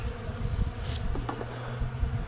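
Honey bees hum steadily around an opened hive during a spring inspection, a dense continuous buzz close by with a few brief rustles on top.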